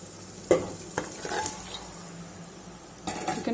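Chicken pieces land in hot oil with ginger garlic paste and sizzle at close range, with a clatter as they go in and spoon scrapes and stirring against the pan.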